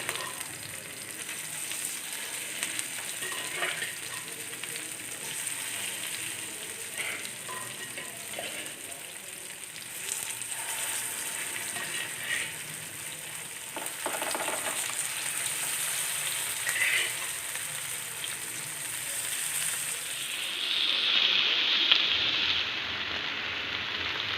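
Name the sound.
fish frying in a pan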